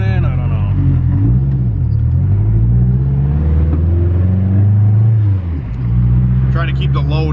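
An AWD Honda Civic with a twin-disc clutch and boost accelerates in second gear, its engine droning loud and close with rising and falling pitch, then a brief dip before pulling again.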